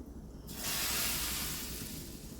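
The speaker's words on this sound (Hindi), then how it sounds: "देखिए बहुत ही मज़ेदार सा तड़का लगा दिया हमने इसमें।" Hot tadka tempering with Kashmiri chili is poured into a chickpea curry, setting off a sudden faint hissing sizzle that swells and then holds steady.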